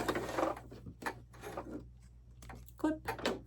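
A sewing machine backstitches through the thick edge of a dish drying mat being made into a basket, giving several short mechanical bursts of stitching with brief pauses, fairly close and moderately loud.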